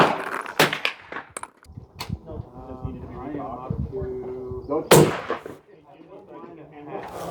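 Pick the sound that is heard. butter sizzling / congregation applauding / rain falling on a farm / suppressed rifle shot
suppressed rifle shot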